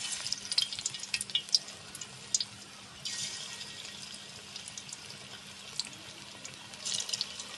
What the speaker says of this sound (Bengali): তেল গরম হয়ে গেছে, এখন বড়াগুলো ভেজে নেব।